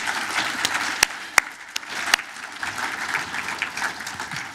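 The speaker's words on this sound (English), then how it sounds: "So let's give them one all big hand of applause" Applause from a crowd at a business appreciation breakfast, dense and continuous, with a few sharp, loud individual claps standing out close by.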